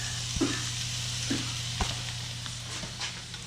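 Green, red and orange bell peppers sizzle steadily in a hot pan, a dense continuous frying hiss broken by a few soft knocks as the pieces land and settle.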